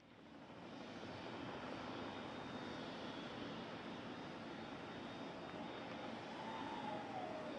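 Space Shuttle carrier aircraft with the orbiter Endeavour mounted on top coming in to land at Ellington Field, a loud steady jet engine roar that holds throughout with no voices.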